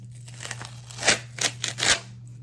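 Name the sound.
hot peeling PET transfer film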